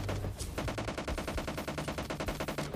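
Rapid automatic gunfire in PUBG Lite, a steady stream of sharp, evenly spaced shots that run continuously and loudly with no talk over them.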